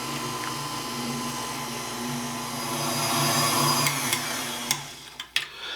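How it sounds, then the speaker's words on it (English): Electric stand mixer with a whisk attachment beating pumpkin roll filling, a loud steady motor whine with a high buzzing drone, ending in a few clanks and knocks as it slows. "we're just gonna put our whisk attachment on here. You can use the paddle, it doesn't matter. And we're gonna mix this together until it's fluffy and smooth."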